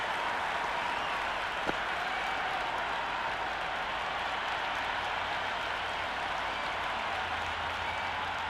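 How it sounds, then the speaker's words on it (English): Broad, sustained roar of a large IPL cricket stadium crowd cheering and clapping, constant and distant-sounding, with one brief sharp crack partway through. "The crowd are making a heck of a lot of noise even before the first ball's been bowled"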